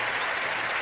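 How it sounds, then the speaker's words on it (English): A brief burst of audience applause, a dense, even patter of many hands clapping at moderate loudness. "One more round of applause for that little man, that young man right there."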